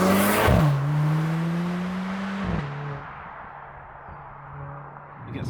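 A Mercedes-AMG GLC 43 four-cylinder engine revs in manual mode, close and loud, rising through the gears with sharp shifts and steady pulls, then easing off to a lower drone.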